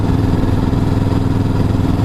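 A Kawasaki Vulcan S 600cc motorcycle engine runs steadily and loud throughout, a low continuous throbbing drone with no talk over it, as if heard while riding up a mountain.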